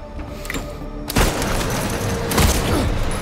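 A burst of gunfire in the survival-horror game Silent Hill 2 Remake, with loud, sharp shots cracking out over a dense, noisy in-game ambience.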